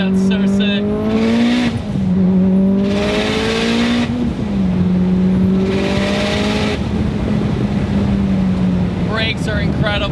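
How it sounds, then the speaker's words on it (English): Modified Mitsubishi Lancer Evolution with a Tial wastegate, tuned to about 825 horsepower, revving hard through repeated rising pulls. The engine drones loud and close throughout, with crackling bursts and flutter as the throttle comes off between pulls. "The tile wastegate, this thing sounds so sick."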